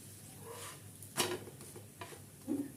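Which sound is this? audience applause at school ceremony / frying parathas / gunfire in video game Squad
frying parathas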